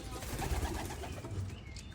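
Pigeons and their chicks coo softly in a steady, busy background of bird sounds, with a voice talking over them.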